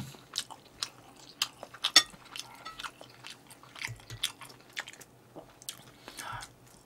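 Close, wet chewing and crunchy bites during a Korean mukbang of hamburg steak and tomato meatballs, repeated irregularly with brief murmurs between.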